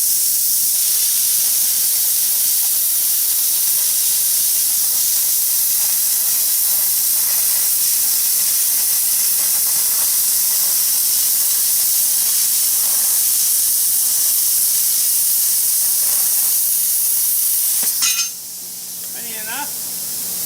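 Spray foam burns off a steel piece during fabrication of a mini excavator bucket, a loud, constant hissing roar of steady spray-like sizzle that runs unbroken for most of the time, then cuts out as a voice begins.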